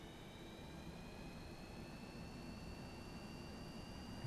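Jet engines of a simulated Boeing 737-200 in X-Plane 11 spool up on the runway, giving a steady, faint roar with thin whining tones that climb slowly. No voices are heard.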